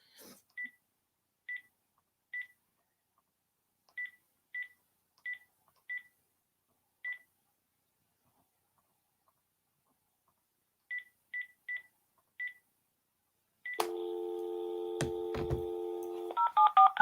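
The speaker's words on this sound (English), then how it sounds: "It sounds like an international dial to me." A telephone keypad dials a string of beeping tones in short bursts separated by pauses, followed by a steady ringback or line tone, sounding thin and close.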